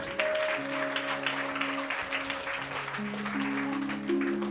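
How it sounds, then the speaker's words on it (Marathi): A church congregation claps for the Lord during a worship sermon, steady dense applause filling the hall under sustained tonal keyboard or organ notes, fairly loud throughout. "हा ललुया जरा जोरदार टाळ्या प्रभूसाठी"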